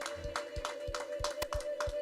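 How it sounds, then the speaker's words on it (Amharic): Congregation in a church service clapping in quick, uneven bursts of hand claps, with a steady tonal hum running underneath. "እንደገና እልልታና ጭብጨባ"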